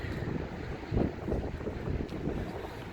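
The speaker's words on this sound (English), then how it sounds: "Nice waves." Ocean waves wash onto a busy beach at midday, mixed with heavy wind buffeting the microphone. The sound is a steady broadband roar with a few louder surges.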